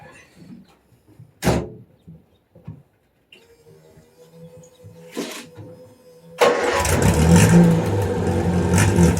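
A 1966 Austin Healey Sprite, back on the road for the first time since 1983, sets off on a test drive: a door thump and a few scattered knocks, then the engine surges loud and stays revving steadily nearby.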